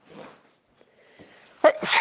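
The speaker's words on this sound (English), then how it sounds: "I'm about to sneeze." A single loud sneeze bursts out after a quiet stretch with a few faint rustles, sharp and close, ending in a breathy spray.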